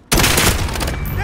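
Loud close burst of automatic gunfire in Modern Warfare, a sudden dense fusillade of shots with game effects layered in, and a voice calling out over it.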